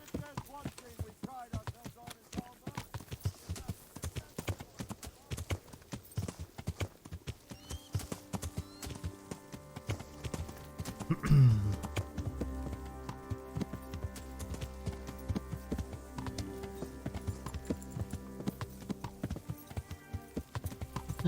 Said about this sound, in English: Horse pops out of thin air.